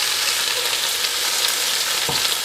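Chopped onion sizzling in hot oil in a pan, alongside whole garlic cloves, a loud, steady, close crackling hiss that holds throughout, with one faint stir or knock near the end and no voices.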